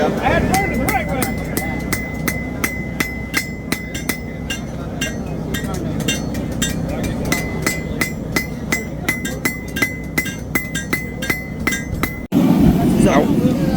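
Hammer blows ring out on a knife blade being forged at a forging event, a fast, steady run of bright metallic clinks against a continuous noisy background, breaking off abruptly near the end.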